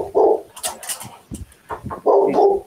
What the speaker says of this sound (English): He's out here barking at the door, and he probably won't stop unless I do something about it.